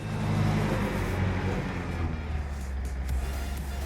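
A Nissan 720 hardbody pickup with about 200,000 on the clock launches from a standstill in first gear, its engine giving a loud, steady low rumble that builds and holds.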